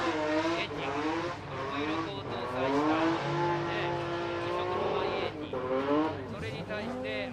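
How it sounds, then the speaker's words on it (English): A VR38-powered Nissan 180SX drift car, running the latest Nissan GT-R engine, at a 2022 D1 Grand Prix round at Fuji Speedway: a loud, continuous engine roar with rising revs and tire squeal throughout. "That car makes a lot of noise."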